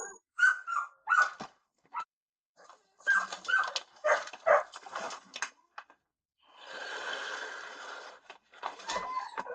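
Several dogs in a house bark and whimper in bursts, fairly close, with a high whining cry and a stretch of hissy noise between the barks.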